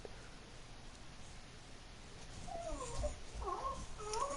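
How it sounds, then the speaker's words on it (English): A dog whimpers and whines in short, rising cries during a Madden 21 gaming session, fairly faint at first and growing more insistent toward the end, with no talk. "Assuming you can hear my dog getting mad."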